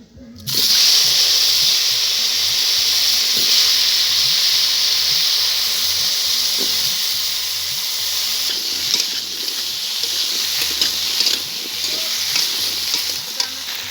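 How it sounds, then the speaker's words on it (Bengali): Cut, washed potatoes frying in oil left over from frying fish, a loud, hissing sizzle that starts suddenly and holds steady, with rhythmic low knocks of stirring throughout. "এবার মাছ ভাজা তেলের ভিতরে আলুটাকে একটু ভেজে নেব।"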